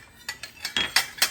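A metal spoon clinks rhythmically against the side of a bowl while stirring moong daal pancake batter, giving about five quick, bright strikes in a row, close and clear with no talk.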